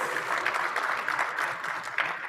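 Audience applause fills a closing conference session as prize winners are announced, a steady dense clapping from a large crowd sustained for a couple of seconds without talk.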